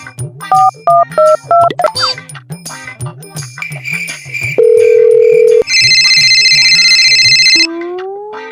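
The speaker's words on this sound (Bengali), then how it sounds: "গোদলাকে একটা ফোন করি।" A telephone call being placed: a quick series of keypad dialing beeps, then loud, steady electronic ringback and ringing tones, close and clear.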